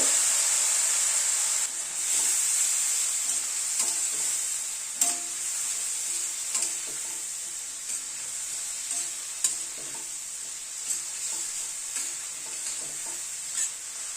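Spice paste of Kashmiri red chilli, turmeric and ginger paste with a little hot water sizzling over a medium gas flame, with steady frying hiss and scattered scraping stirs in the pan throughout.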